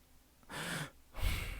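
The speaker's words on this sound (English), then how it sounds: "You could hear it here, the breathing." Breathing captured close-up on a budget BM800 condenser microphone: two distinct breaths, a softer inhale followed by a louder, fuller exhale with low rumble, alone with no talk.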